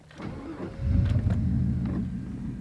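An old car engine cranks briefly and catches, then settles into a steady, loud idle rumble close by, with a faint whine over the start.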